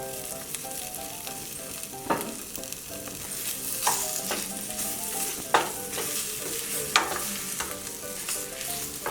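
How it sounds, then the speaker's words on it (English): Chopped potatoes for a dry potato curry fry in a pan over a medium flame, giving a constant sizzle broken by several sharp scraping strokes as they are stirred, with no voices. "Fry everything nicely. Mix together nicely and roast for 5 minutes on medium flame."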